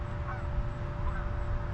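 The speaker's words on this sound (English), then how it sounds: "the geese are out doing their geese thing" Geese honking outdoors in a park, a few calls rising faintly over a steady low rumble of background noise, with no talking.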